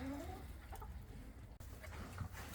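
Startled farm chickens cluck and squawk in an outdoor pen after something outside scares them. The calls are agitated and scattered, fairly close, over a low steady background rumble.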